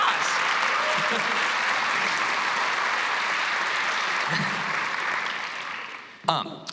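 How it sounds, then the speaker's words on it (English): Audience applause after a piece at a high school winter band concert: sustained, even clapping from a large crowd filling the room, tapering off near the end, where a few brief knocks are heard. "give a round of applause"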